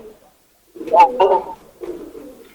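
Pigeons coo close by in a few soft, throaty calls spread across a couple of seconds, with a quiet pause before them.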